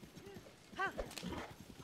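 Horse hooves clip-clop in The Legend of Zelda: Tears of the Kingdom, a steady trotting rhythm with a brief whinny partway through, heard at moderate level.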